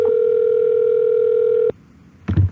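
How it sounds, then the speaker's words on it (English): A steady electronic telephone ringing tone during a phone call holds for over a second, then cuts off, followed by a brief burst of muffled noise. "Then why do I keep hearing the ringing sound?"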